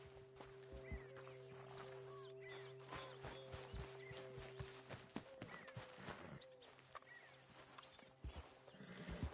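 A horse, addressed as a nag, neighs and whinnies repeatedly close by, with clopping hooves and steady livestock sounds carrying on around it.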